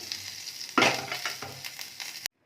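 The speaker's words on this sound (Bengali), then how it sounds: "ননস্টিক একটা তাওয়া নিয়ে নিয়েছি, দিয়ে যেইটাতে আমি চিকেনটা ভেজেছিলাম সেই তেলটা এখন এর মধ্যে পুরোটা দিয়ে দেবো" Oil left from frying chicken sizzles and hisses as it is poured into a hot nonstick pan. A sharp burst of sizzling is followed by a steady crackle close up, and it cuts off abruptly.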